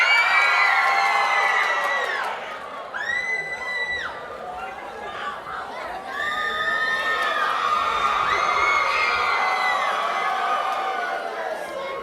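A crowd at a cosplay masquerade cheers and whoops loudly in sustained waves, with high shouts rising over the noise and dipping briefly before swelling again.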